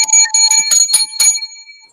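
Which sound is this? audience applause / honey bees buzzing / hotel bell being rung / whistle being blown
hotel bell being rung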